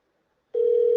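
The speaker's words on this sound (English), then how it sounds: "Oh, it's ringing." A single steady ringback tone on an outgoing telephone call starts abruptly halfway through, a clear, loud, unbroken electronic hum.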